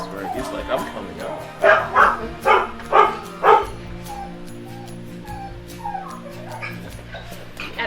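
Several dogs in an animal shelter's dog ward bark in a quick series of five loud yaps, followed by softer whimpers and whines, with indoor echo.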